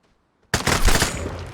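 Gunfire in the video game Vigor begins abruptly after a short silence, a loud, close rapid volley of shots that keeps going to the end with no pause; no talking.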